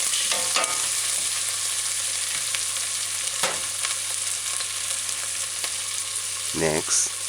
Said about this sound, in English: add the mushrooms and stir in